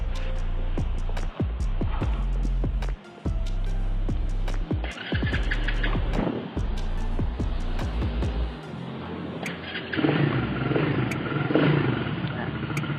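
An L&P Thunder 150 ATV with a manual gearbox runs while being ridden, its engine rumbling steadily and loudly up close, with repeated clattering knocks and a rougher, brighter roar toward the end.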